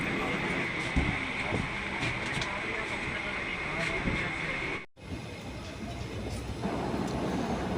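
Inside a crowded Palaruvi Express as it runs toward Aluva railway station, a steady broad rumble and rush of the moving train fills the space, with a brief dropout midway before the noise resumes.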